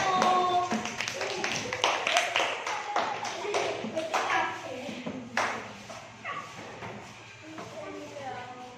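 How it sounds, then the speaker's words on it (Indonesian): Primary school pupils in a classroom clap for a group of classmates, a scattered, uneven run of claps close by with children's voices and chatter around them. "tepuk tangan kelompok 1"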